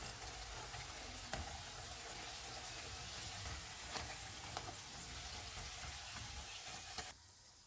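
Pakoras frying in hot oil, an even, constant bubbling sizzle heard close up with a few small ticks and clinks, cutting off near the end.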